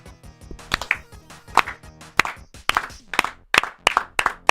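One person does a slow clap, about a dozen sharp, separate hand claps that speed up gradually, with a little background music between them.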